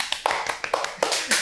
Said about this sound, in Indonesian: Kita tepuk tangan dulu dong, tepuk tangan.